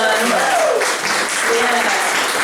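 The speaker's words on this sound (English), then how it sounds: "Everybody clap it up for Jezebel one more time." Audience at a spoken-word open-mic event claps steadily, a dense close wash of applause with a voice calling out over it.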